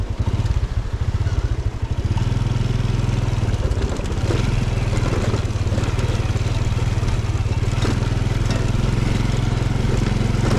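A motorcycle rides along a village road in the hills, its steady low engine drone continuous and loud throughout, with some rattling clatter over the top.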